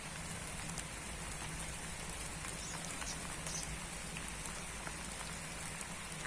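Steady rain patters on a spring garden with lupins and other plants, a continuous close hiss of drops on leaves and soil with no voices.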